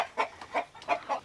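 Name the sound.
chickens clucking, hen and rooster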